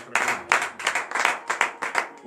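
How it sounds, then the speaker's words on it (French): A church congregation at morning prayer in Benin claps in rhythmic bursts, with cheering voices mixed in, the hand claps close and regular. "Donnez de vives acclamations au Seigneur"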